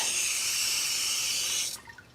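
Water poured over pebbles in a garden makes a steady, loud splashing rush that runs unbroken for nearly two seconds, then stops abruptly, leaving a few faint trickles and drips.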